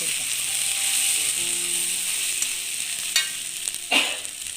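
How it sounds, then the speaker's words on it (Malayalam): Vegetable thoran cooking in a pan, gently stirred, with a soft continuous sizzle, a faint mechanical hum underneath and a few scraping strokes near the end. "പെട്ടെന്ന് വേവുന്നുണ്ട് പതുക്കെ ഇളക്കി"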